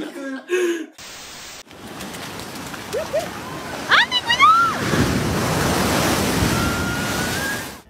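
Big ocean waves surge and crash with a broad, steady roar that swells midway and holds loud to the end, after brief unrelated sounds and a short silence at the start, with squeaky tonal cries mixed in.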